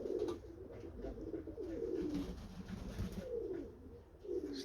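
Several pigeons coo in a loft, low rolling calls repeating and overlapping steadily at close range against a soft background hum.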